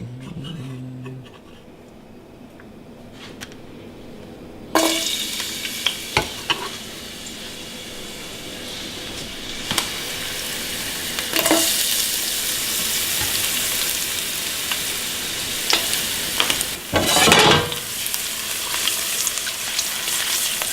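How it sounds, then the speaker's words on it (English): Steady crackling sizzle of garlic frying in hot olive oil, starting after a quiet moment and continuing with occasional louder pops and stirring clatter. "once that starts sizzling in there, then you know the oil's hot enough."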